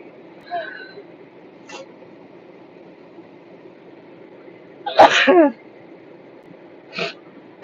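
A single sudden sneeze bursts out midway through an otherwise quiet stretch, with faint sniffs before and after.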